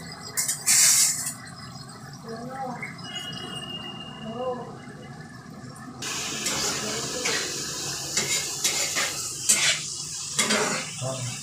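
Dal being stirred and mixed in a pot in a home kitchen, a spoon clinking and scraping against the metal with sloshing, wet movement, fairly close, while people talk nearby.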